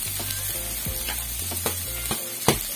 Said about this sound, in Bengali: এখন দিয়ে দিচ্ছি আদা রসুন আর জিরে বাটা একসঙ্গে বেটে রেখেছি, ওটাই দিয়ে দিলাম